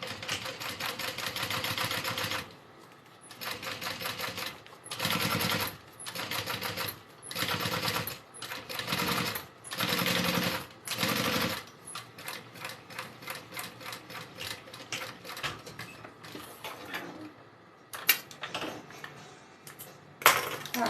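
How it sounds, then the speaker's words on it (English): A sewing machine top stitches around a denim backpack, running in steady bursts of rapid mechanical stitching with short pauses between them, then a quieter, more broken stretch of stitching and handling clatter toward the end. "what we're going to do is just a top stitch all the way around"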